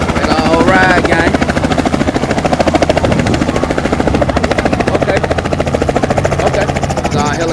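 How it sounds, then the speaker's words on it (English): A helicopter sits on the ground before takeoff, its engine and rotors close and loud with a fast, even chop that runs steadily throughout, while voices are faintly audible underneath. "It's our helicopter, gang. We finna get up in that thing."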